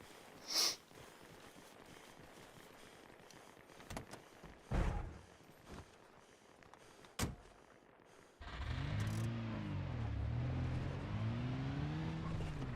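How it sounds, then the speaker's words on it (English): In the Arma Reforger video game, a few door thumps and clicks from a small car sound faintly, then its engine starts and idles and revs audibly with wavering pitch for the last few seconds. "Let's get in this little car."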